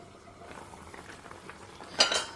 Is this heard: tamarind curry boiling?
yes